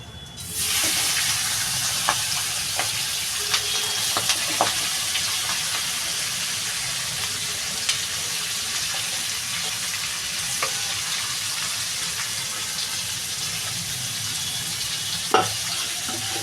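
Prawns sizzle in oil with cumin in a pan at home, a dense, continuous frying hiss with faint crackles and occasional utensil clicks, close and steady throughout.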